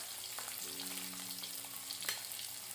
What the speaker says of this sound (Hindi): शिमला मिर्च डाल देंगे